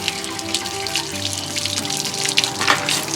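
Water draining from an RV tank while winterizing with a Nautilus P4, a continuous loud rushing and splashing flow with steady gurgling, close and without talk.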